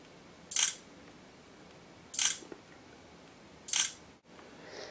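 A Droid Incredible 4G LTE phone's rear 8-megapixel camera firing its shutter sound three times at even intervals, crisp and fairly loud clicks over a quiet room, followed by a softer click at the end.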